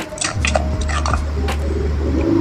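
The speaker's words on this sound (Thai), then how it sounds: "จากนั้นเราก็มาตำคลุกเคล้าให้เข้ากัน" A pestle pounds and stirs Thai bean salad in a mortar, producing repeated knocking and clattering strikes over a steady low background hum.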